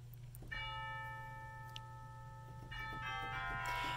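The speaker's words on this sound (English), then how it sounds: "Then what I do is I play a little snippet of the last hymn just on the chimes." Chimes of a 1928 Reuter Opus 300 pipe organ in a Lutheran church ring out a short hymn snippet, clear bell-like notes struck one after another and left to sustain, heard alone over a low room hum.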